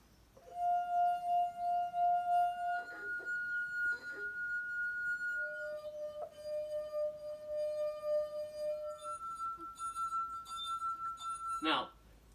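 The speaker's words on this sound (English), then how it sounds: "These 4 glasses can produce some of the most amazing sounds. And all they need is a finger and a little bit of water." Sustained pure ringing tones from finger-rubbed wet glass rims, several pitches sounding one after another and sometimes overlapping, clear and close with a brief clink near the end.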